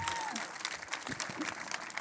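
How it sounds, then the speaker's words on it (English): Keynote audience breaks into applause, a dense wash of clapping from a large crowd that keeps going steadily, heard at moderate distance. "Round of applause."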